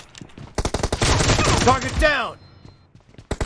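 Rapid bursts of automatic gunfire ring out in PUBG Mobile, loud and close, fired in quick succession for about two seconds, with a few isolated shots before and after.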